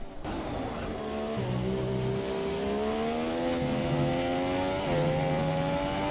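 A Formula 1 car in the F1 2017 racing game laps the Brazil circuit, its high engine whine rising and dropping through gear changes, loud and continuous with no talk.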